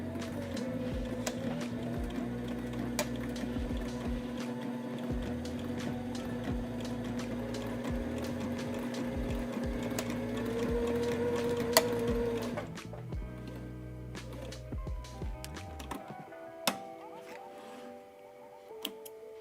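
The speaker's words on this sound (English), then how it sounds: "we're going to put it under the foot and sew about 1/8 inch away from this folded edge" Sewing machine running steadily to stitch a flat-felled seam, a continuous mechanical hum with a fast rhythmic tick for most of the stretch, then stopping and giving way to quieter handling sounds and small clicks.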